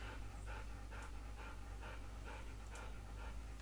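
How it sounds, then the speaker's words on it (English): A dog pants outside a window, a steady run of quick, rhythmic breaths at moderate distance over a constant low background hum. "as we have our furry friend panting outside the window"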